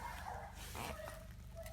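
A beagle whimpers and yips in short, thin cries over steady low background noise, fairly faint, with no talking over it.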